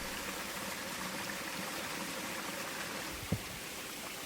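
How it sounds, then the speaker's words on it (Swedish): Small stream flowing through forest at Storpissan nature reserve and spilling over a little waterfall, a steady faint wash of running water with a single soft knock near the end, no voices. "en liten bäck som flyter igenom skogen, som slutligen skapar ett litet vattenfall"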